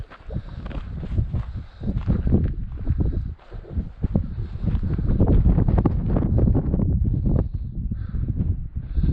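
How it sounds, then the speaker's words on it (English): Cold wind at Cracker Lake in Glacier National Park buffets the microphone with a steady, loud, low rumbling roar that keeps going for the whole stretch and swells louder in the second half. "Hopefully that sun will come up over soon, because that wind is like ice."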